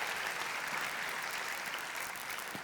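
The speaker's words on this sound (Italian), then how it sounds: "Ancora un grande applauso, grazie." Audience at a Veneto tennis gala giving sustained, dense applause, an even wash of clapping filling the room with no voices above it.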